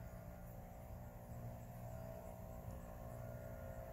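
A jet aircraft moving fast as it climbs steeply over a neighborhood in the morning, heard as a steady, continuous low roar with a broad rumbling hiss that holds even throughout, with no one talking.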